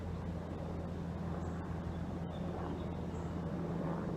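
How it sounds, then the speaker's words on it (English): A steady low rumble of a helicopter drones overhead, constant and moderately loud, with faint bird chirps and rushing water in the background. "I'm gonna wait for the helicopter to pass."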